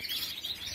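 Caged birds in an aviary cage chirping, a faint, rapid run of high thin tweets close by, with no talk over them.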